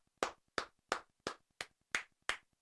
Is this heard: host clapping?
yes